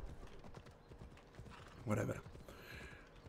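A horse's hooves clip-clop at a steady trot in Assassin's Creed Odyssey, with a brief whinny in the middle, beneath quiet talk.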